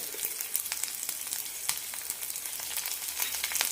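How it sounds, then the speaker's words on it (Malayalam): Chopped ginger, garlic, green chili and curry leaves sautéing in hot oil with fennel seeds for a vegetable-free kurma, a soft steady sizzle with small crackling pops, close and quiet, no voices. "നന്നായി ഒന്ന് വഴറ്റിയെടുക്കാം ഒരു മിനിറ്റ് നന്നായി വഴറ്റി കൊടുക്കണം"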